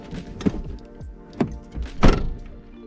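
A car door operates after a seat upgrade, with a few distinct thunks and mechanical clunks spaced over about three seconds, close and fairly loud, with no speech.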